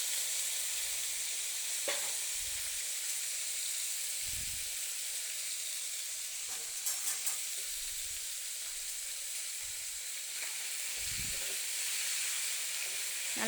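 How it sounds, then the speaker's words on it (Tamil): Drumstick and ridge gourd sautéing in oil for a sambar, a steady broad hiss of frying with a few soft stirring knocks, fairly quiet and without talking. "நல்லா எண்ணெயில் வதங்கட்டும்."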